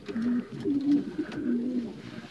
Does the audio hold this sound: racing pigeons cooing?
yes